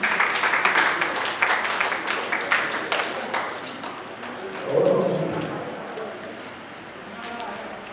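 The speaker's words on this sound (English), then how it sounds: "Let's clap for the Chief." Applause for a chief at a writers union awards ceremony, a scattered crowd clapping that fades over several seconds while voices talk across it.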